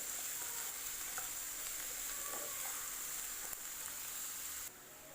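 Onions with chopped curry leaves sauté in a pan while being stirred, making a soft, steady sizzle with faint scraping touches that drops off abruptly near the end.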